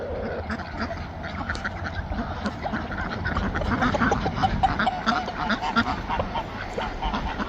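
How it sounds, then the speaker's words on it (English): A flock of ducks quacks continuously at a farm with a new coop, the calls dense and overlapping at close range. "Keep it straight with your ducks."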